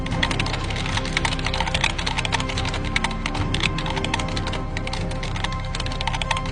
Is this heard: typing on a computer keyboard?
yes